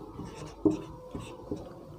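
Pen or pencil writing out a triangle angle-sum geometry proof by hand, a few distinct taps and short scratchy strokes on paper, close and fairly quiet with no talking.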